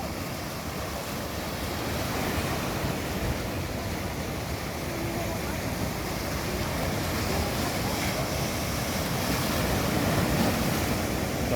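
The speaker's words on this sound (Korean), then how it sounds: "파도 소리." Steady ocean surf rolls and washes continuously at a surfing beach in San Fernando, La Union, Philippines, with a broad rushing roar and some wind noise, no voices.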